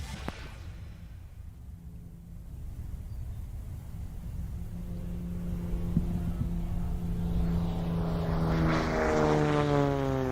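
Aerobatic Bonanza propeller plane diving in at an airshow: a faint distant engine hum that grows steadily louder and rises into a close, sweeping propeller whine with a clear pitch shift near the end, and no talking.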